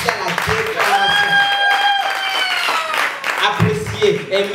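Slam poetry night audience clapping and cheering, a steady dense wash of applause with sustained tonal voices and whoops riding over it throughout.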